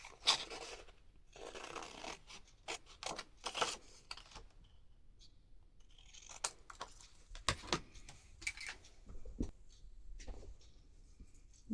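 Scissors snip and rasp through paper in irregular strokes, with brief pauses between cuts and soft rustling, close and fairly quiet.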